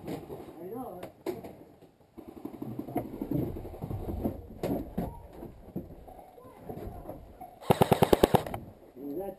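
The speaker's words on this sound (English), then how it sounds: "That guy keeps shooting at me." Video game gunfire in a multiplayer battle: scattered single shots and a loud rapid burst near the end, mixed with players talking throughout.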